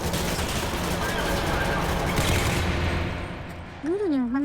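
Rapid bursts of turret gunfire from the video game Fallout 4 rattle steadily and loudly for several seconds, then give way to a swooping synthetic tone near the end.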